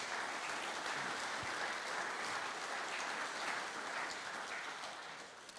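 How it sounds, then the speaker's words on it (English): Audience at a panel discussion on making money and working with nature breaks into sustained applause, a dense, even patter of many hands that holds steady and tapers slightly at the end. "give them all a round of applause"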